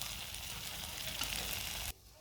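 Masala for chicken rassa curry sizzles and crackles in hot oil, a steady close frying hiss that stops abruptly near the end, leaving quiet room tone.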